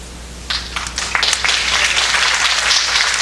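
Applause from a seated crowd at a community membership meeting as board directors are introduced, starting with scattered claps that quickly swell into steady, dense clapping filling the room, with no voices over it.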